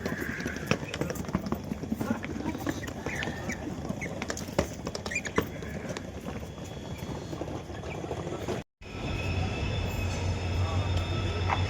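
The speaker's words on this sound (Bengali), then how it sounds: "এই যে ট্রেন" A train at Sairang railway station in Mizoram, with a continuous rumbling and clattering wash of rail noise and station bustle, brief clopping impacts, a sudden short dropout near the end, then steady low hum; voices talk throughout.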